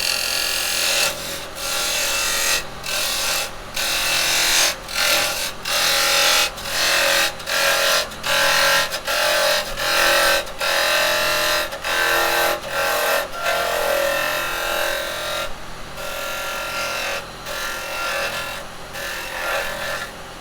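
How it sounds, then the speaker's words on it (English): A carbide detail chisel cuts pine end grain on a wood lathe, a loud close rasping scrape that comes in rhythmic bursts about once per second, broken by short pauses, for a plant pot being turned. "Again, detail chisel, we'll take all this away."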